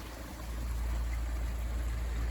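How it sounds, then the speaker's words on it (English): Creek water spilling over a small waterfall, a steady broadband rushing with a low rumble, close and continuous with no talking. "If I stand on this platform right here, the next waterfall"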